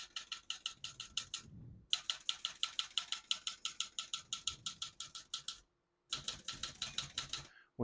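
Rapid typing on a 1975 Olivetti Lettera 32 portable typewriter, crisp mechanical key strikes in quick bursts separated by brief pauses, close and clear with no voices.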